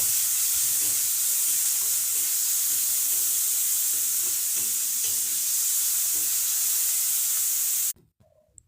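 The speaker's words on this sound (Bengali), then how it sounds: "সেটা তেলেতে একটু ভাজা ভাজা করে নিয়ে তারপর ডিমটা আমি এর মধ্যে দেবো" Salted chopped onions fry in oil in a pan, giving a steady, close, crackling sizzle with light stirring scrapes for several seconds before cutting off.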